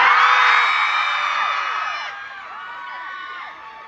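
A crowd at a giveaway event shouts and cheers loudly to be picked for free t-shirts, a dense wash of voices that slowly fades and thins out over a few seconds.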